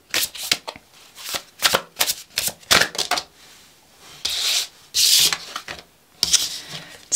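Tarot cards are shuffled by hand up close, with bursts of crisp riffling and snapping separated by short pauses, and no one speaks.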